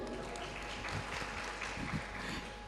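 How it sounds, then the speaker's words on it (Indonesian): Applause rises from the audience at a Ramadan sholawat festival, a steady, moderately faint patter of clapping with some faint voices mixed in. "Ya tepuk tangan yang meriah untuk Soba."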